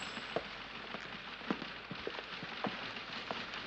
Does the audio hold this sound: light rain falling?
yes